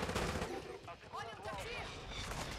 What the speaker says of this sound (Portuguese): Para de ficar atirando nele.